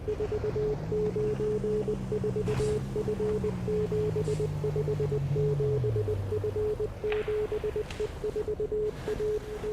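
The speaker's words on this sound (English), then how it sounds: "Believe it or not, I don't know Morse code." Steady Morse code beeping from a radio tower in the video game Easy Delivery Co., a continuous rhythmic string of short and long tones over a low droning hum, heard alone.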